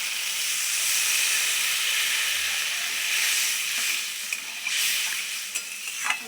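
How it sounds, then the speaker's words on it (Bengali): Okra masala sizzles and hisses loudly in a pan as water is added to make a shrimp and okra curry, steady and broad, with a few sharp spits and clicks near the end. "জলটা দিয়ে দিলাম আমি জল কিন্তু খুব একটা বেশি দিইনি অল্পই দিয়েছি"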